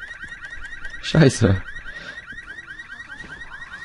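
Car alarm in the video game Resident Evil 6, a steady repeating electronic warble through the whole clip, with a brief burst of a man's speech and a thud in the middle.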